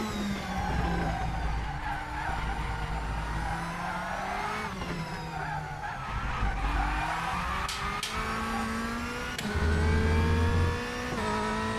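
Race car tires squeal and slip through corners in the RaceRoom racing game, loud engine revving rising and falling with repeated skidding screeches and gear changes.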